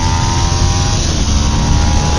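Ducati 750cc superbike engine at full throttle from about 6,000 RPM, a loud continuous roaring rush of engine noise mixed with wind, steady and close for the whole moment.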